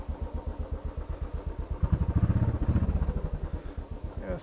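A Royal Enfield motorcycle thumps along with a loud, regular single-cylinder pulse close by, swelling briefly as the throttle opens before settling back to a steady beat.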